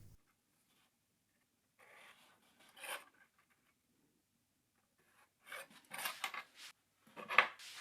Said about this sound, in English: I put it in my improvised bench vise and cut it with a hand hacksaw